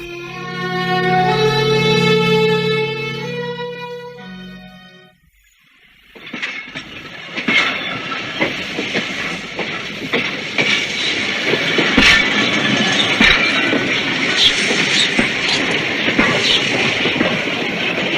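A train runs along the rails, loud and close, with rhythmic clickety-clack of wheels over track joints and a steady rumble, following a brief passage of music.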